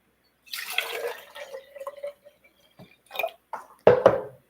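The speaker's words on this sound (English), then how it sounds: "pour water in." Water poured into a container for a fresh rose centerpiece, splashing and trickling in short uneven bursts, close and fairly clear, with no talk.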